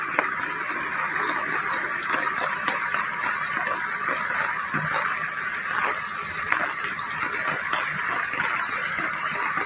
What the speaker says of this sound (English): Water spills over, merging with the endless currents.